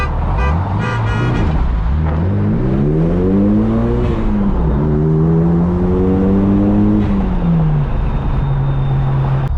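A turbocharged Volkswagen GTI accelerates hard in a street race, its loud, close engine note climbing through the gears in rising sweeps with brief dips at each shift, and no voices over it.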